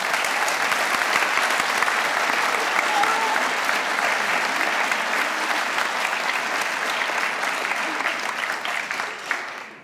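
An audience at a senior awards night applauds the award recipients, dense sustained clapping filling the room for nearly ten seconds before tapering off at the end.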